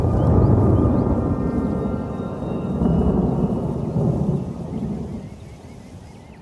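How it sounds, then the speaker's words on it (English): Deep, rolling summer thunder rumbles through heavy rain, loudest at the start with a second swell midway, then slowly fading into a softer wash of rainfall. "This year's summer rains have been frequent and intense"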